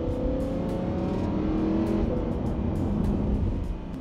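A Lamborghini engine revs hard and loud up close, a dense sustained roar with rough, crackling exhaust texture and slight pitch shifts as it pulls, no voices over it.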